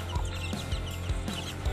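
A mother hen with her white chicks clucks softly and repeatedly close by, giving short, low calls in a rough rhythm over steady farmyard background noise.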